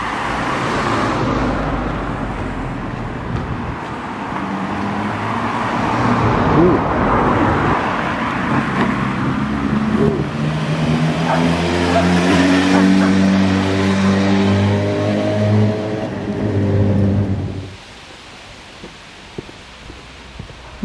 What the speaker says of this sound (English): Cars are struggling to get past one another.